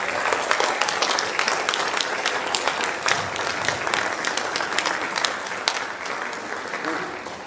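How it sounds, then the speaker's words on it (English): Applause at a school board of education meeting, a room of people clapping steadily and fairly close for several seconds, dense and even, tapering slightly toward the end. "round of applause"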